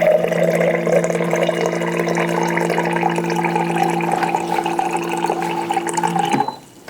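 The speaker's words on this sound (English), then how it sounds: "Can you see the water coming out?" Water streams steadily from a Solaris atmospheric water generator's dispenser into a container, a close, even pouring rush that cuts off abruptly near the end.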